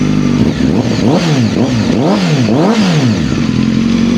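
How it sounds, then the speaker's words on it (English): A 2025 Honda CBR1000RR-R SP Fireblade sport bike's engine revs loudly and close, climbing and falling in several quick sweeps before settling to a steady roar, with no voices. "Obviously, you get the boosting sound when you start the bike, but it turns down."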